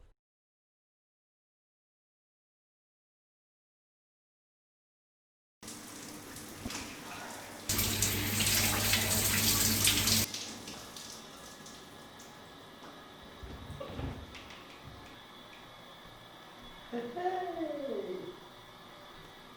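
Shower water runs in a bathroom, a steady hiss of spray that swells louder for a few seconds and then settles into a quieter flow, with a voice speaking faintly over it.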